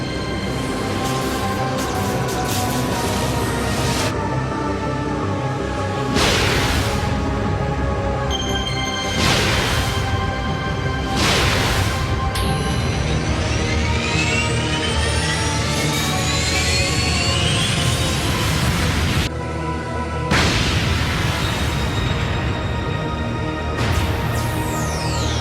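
A cartoon sci-fi Gigantian Space Bridge Generator engaging: a loud, sustained machine roar with rising whooshing sweeps and repeated surging bursts, steady and dense throughout with no talk.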